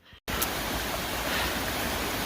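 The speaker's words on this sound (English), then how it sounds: "Lots of stream crossings this morning coming down from the mountains" A mountain stream crossing on the Pacific Crest Trail rushes in a steady, full broadband wash of flowing water. It sits close by and alone after a brief quieter moment at the start.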